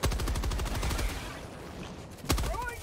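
Turret gunfire in the co-op shooter Helldivers 2, rapid automatic bursts in a fast, even rhythm, loud and close, fading briefly before a final sharp shot.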